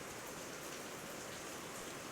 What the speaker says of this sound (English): The rain is falling extra hard.